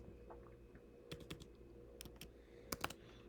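Scattered keystrokes on a computer keyboard, a few quick taps in small clusters, faint and close over a quiet room hum.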